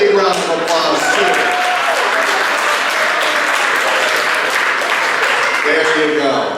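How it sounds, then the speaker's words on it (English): A large audience breaks into loud, sustained applause for Doug at a live presentation, a dense steady wash of clapping with voices mixed in throughout. "So give Doug a big round of applause too."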